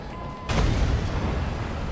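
A tank takes fire in the World of Tanks Last Stand mode, where a sudden heavy boom breaks the quiet and leaves a loud, rumbling blast that lingers to the end.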